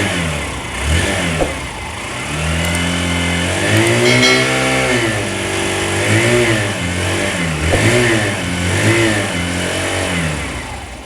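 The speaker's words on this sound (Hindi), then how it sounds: "तो ये थी स्प्लेंडर की एग्जॉस्ट की साउंड।" Hero Super Splendor motorcycle exhaust revved repeatedly up close, a series of sharp throttle blips rising and falling over a steady idle, loud and alone.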